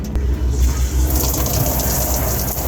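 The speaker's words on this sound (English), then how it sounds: "Gonna try the shower." Water gushes from a shower in an RV, a loud, steady hissing spray that runs close and uninterrupted from start to finish.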